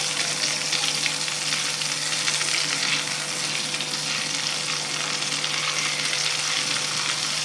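Cumin seeds and a pinch of asafoetida sizzle steadily in hot oil as a tempering for Punjabi dhaba-style moong dal fry, a dense, even crackle close by with faint stirring and no talk.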